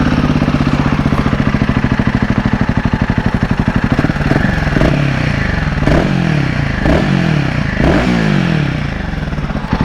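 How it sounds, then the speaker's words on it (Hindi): A warm Royal Enfield Himalayan 450 single-cylinder motorcycle engine idling close by, a fast, even pulsing thrum, then several sharp blips of the throttle that rise and fall in pitch. "देखो इसकी आवाज़ सुन लेते हैं, क्योंकि अभी बाइक गर्म होकर आई है"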